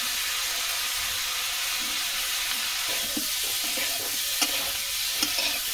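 Potatoes frying in a pan with turmeric, chili and green chilies: a loud, constant hiss of sizzling oil with occasional stirring scrapes throughout, no talk.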